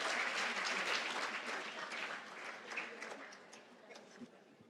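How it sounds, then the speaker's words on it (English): Audience applause fills a breast cancer fundraising kickoff event, a dense burst of clapping that starts strong and gradually fades over a few seconds, with a voice faintly underneath. "Big round of applause for them."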